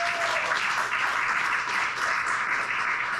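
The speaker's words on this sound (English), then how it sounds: "Give her a round of applause for us." Audience applause at a talk, a steady even wash of many hands clapping at moderate distance with no voice over it.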